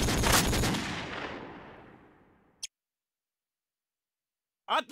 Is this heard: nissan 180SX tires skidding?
no